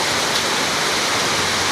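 Heavy rain from Typhoon Uwan in the Philippines pours down as a steady, dense broadband hiss, loud and continuous with no talk.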